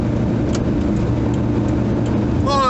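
A lorry and an old Devon campervan pass along a road, a steady mid-pitched engine drone close by, with a brief rising whine near the end.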